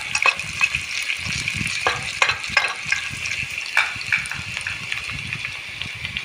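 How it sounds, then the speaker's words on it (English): Fish curry ingredients with tomato and mustard seeds fry in a hot pan, giving a close, continuous sizzle broken by irregular crackles and stirring scrapes. "I fry it for"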